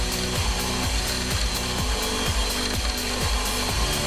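A power tool whirs loudly and steadily at close range while drilling a hole in a metal rod in a home machine shop, its motor pitch shifting in a repeating rhythm as it bites into the metal.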